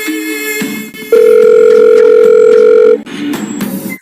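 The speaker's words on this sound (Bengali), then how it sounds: "আমি ফোন করি" Telephone dial tone during a phone call, a steady loud continuous tone lasting about two seconds, with quieter line noise before and after.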